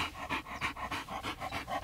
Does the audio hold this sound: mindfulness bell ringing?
no